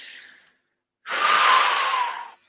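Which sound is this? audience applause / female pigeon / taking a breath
taking a breath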